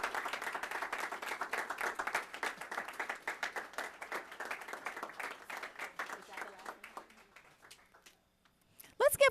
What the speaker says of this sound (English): another round of applause for these talented young musicians